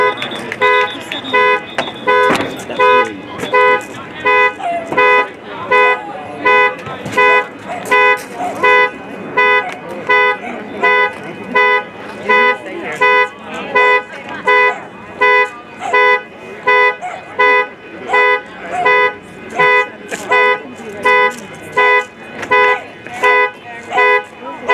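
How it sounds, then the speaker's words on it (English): An ambulance alarm sounds at a sporting event, a loud, pulsing, horn-like tone that repeats in a steady rhythm without letup for the whole stretch. "I've never seen the ambulance have an alarm go off."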